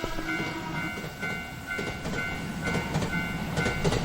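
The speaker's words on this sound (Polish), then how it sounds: "Daliście mi dźwięk pociągu" A train in the video game Teke Teke rolls past close by, rhythmic clatter of wheels on rails under a steady mechanical hum, with short tonal whistle-like accents.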